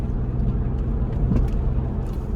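A BMW Z4 on the move, a steady low engine and road rumble heard from inside the car, continuous and fairly loud with no talking.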